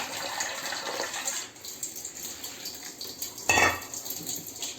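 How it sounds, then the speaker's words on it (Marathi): Water poured into a cooking pot of cauliflower, pea and potato curry, a short splashy gush near the end over faint background kitchen clatter. "आता आपण ह्यात घालतोय पाणी"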